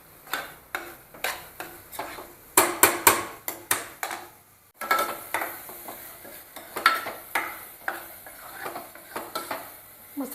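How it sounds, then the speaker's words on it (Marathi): Kolhapuri chicken masala being stir-fried in a pan, a spatula scraping and knocking against the metal in an uneven rhythm of repeated clanks over a light sizzle, close and fairly loud. "चांगला 3 ते 4 मिनटं आपण चांगला मसाला परतून घ्यायचा आहे."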